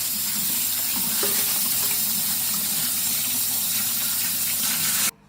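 Tap water runs steadily into a sink while rice is rinsed by hand until the water turns clear, a continuous near gush that stops abruptly at the end.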